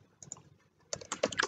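Keystrokes on a computer keyboard while entering text into an Excel spreadsheet: a few light, soft clicks at first, then a quicker, louder burst of close-up typing toward the end.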